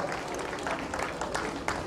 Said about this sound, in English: We will give them a round of applause for members of CDHR.